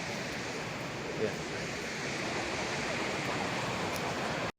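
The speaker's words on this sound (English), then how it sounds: "we are literally on the left hand side of the waterfall" Waterfall spray roaring right beside the listener on a trip in Guizhou, a steady dense rush of water that stays loud throughout, with one short spoken word.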